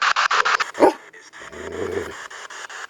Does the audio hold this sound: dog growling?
yes